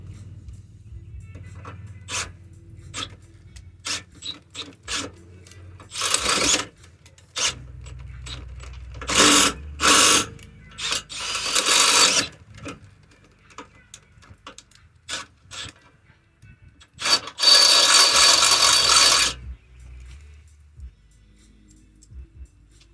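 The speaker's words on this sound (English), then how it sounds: "Just gotta drill the hole." Several short bursts of power-drill whirring as a hole is drilled during a vehicle bumper installation, starting and stopping across the clip, with handling clatter and small knocks in between; no talking.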